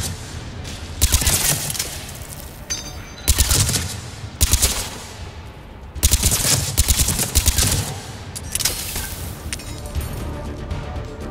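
Bursts of rapid automatic gunfire from Mass Effect 3 during a fight against Rachni, coming in several loud, crashing volleys separated by short gaps, with sharp impacts and a fairly dense background of combat noise.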